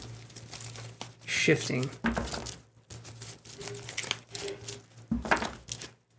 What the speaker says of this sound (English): Just shuffle these a couple times.